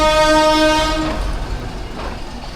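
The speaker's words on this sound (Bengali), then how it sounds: "ফাইনালি হরেন দিল ট্রেন" Dolonchapa Express on its run from Santahar to Rangpur in Bangladesh sounds a loud, sustained horn that fades out after about a second, leaving the rumble of the moving train.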